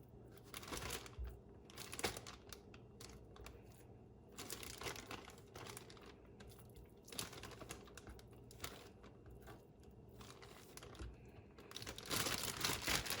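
A Ziploc plastic bag is handled in a kitchen during food prep, giving soft, quiet crinkles and rustles in irregular bursts that swell louder toward the end.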